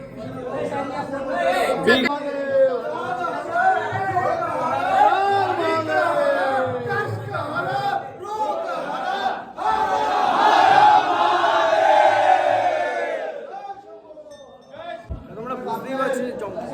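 Dense crowd chatter at a Jangleshwar Baba temple: many overlapping voices, loud and continuous, with a brief lull near the end.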